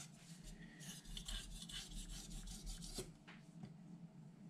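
A kitchen knife rasps back and forth on a Naniwa Aotoshi green whetstone worked into a slurry, in steady repeated strokes that sound close and fairly quiet, with no talking.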